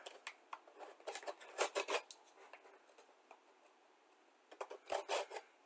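Close, quiet cutting and scraping as a blade slices through a cardboard model kit box for a 1:72 M4 Sherman tank, in short bursts with pauses.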